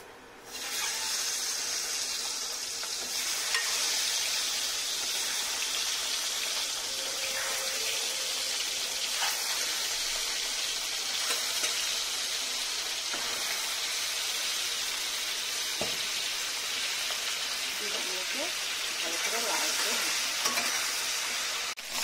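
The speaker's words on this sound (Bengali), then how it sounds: "সরিষার তেল দিলাম, এখন আমি ডিমগুলোকে ভেজে দেব।" Eggs frying in hot mustard oil in a pan, a continuous loud sizzle and crackle with occasional stirring scrapes and clinks, steady and close for the whole stretch.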